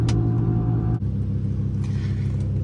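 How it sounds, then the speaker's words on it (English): Road traffic in Virginia, heard from inside or beside a car: a steady, loud, low engine rumble with passing vehicle noise and a brief bump partway through. "It's so much traffic."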